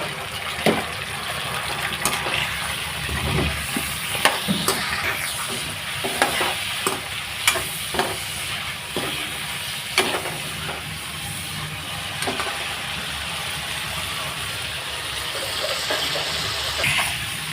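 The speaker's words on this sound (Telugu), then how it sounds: "ఈ వంకాయ ముక్కలు బాగా మగ్గనివ్వాలి నూనెలో" Brinjal pieces fry in oil with turmeric, a steady hissing sizzle running throughout, punctuated by repeated light scrapes and taps of a stirring spoon, close by and with no voices.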